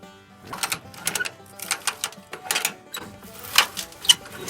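A ratchet strap is cranked tight to secure a Toyota Tacoma or Edsel for towing, with uneven bursts of sharp clicking ratchet strokes close by.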